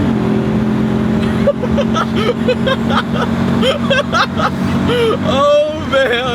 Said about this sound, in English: Wow, that V8 though, right?